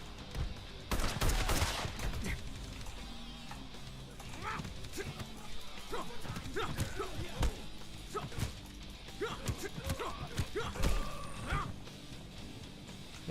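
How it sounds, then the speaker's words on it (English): Gunfire in the Acts of Blood video game demo, scattered bursts and single shots amid clattering fight noise, moderately loud, with someone talking over parts of it. "They all got guns."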